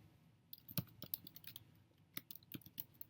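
Keyboard clicks and keystrokes at a computer, scattered and irregular, fairly quiet and close, with a few sharper taps among softer ones and no talking.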